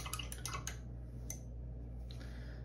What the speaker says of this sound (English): I'm just rinsing off my brush.